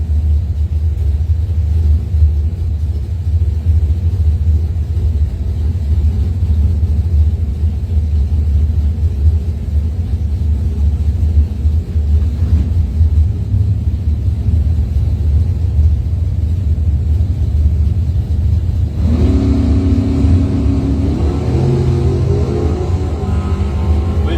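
Doorslammer drag race cars make a loud, continuous engine rumble near a drag strip during a test and tune session, and a harsher roar rises near the end.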